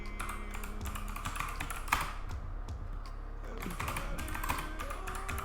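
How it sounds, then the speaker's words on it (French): Typing on a computer keyboard, a close run of quick clicky keystrokes in uneven bursts with short pauses, fairly quiet over a low background hum. "je tape règlement"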